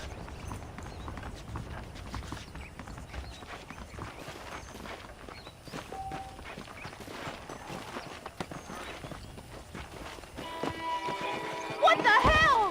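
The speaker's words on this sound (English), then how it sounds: "The horses are saddled up over here." Horse hooves clip-clopping in the Red Dead Redemption video game, a steady walking rhythm of hoofbeats under ongoing game music and voices, with some louder tonal sounds near the end.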